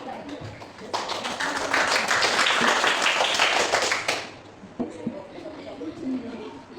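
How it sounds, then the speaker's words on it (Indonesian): Students in a school classroom during a group counseling session break into applause: a dense burst of clapping swells for about three seconds, then fades into scattered taps and low background chatter. "Oke, tepuk tangan."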